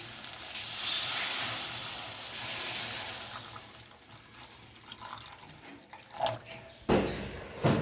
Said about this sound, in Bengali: এবার আমি জল দিয়ে দিচ্ছি পরিমাণ মতো।